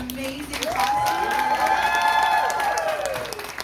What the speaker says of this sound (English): can you all please give a round of applause for these people in their amazing costumes?